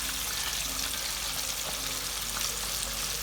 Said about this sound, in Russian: Вот они там хорошенечко жарятся.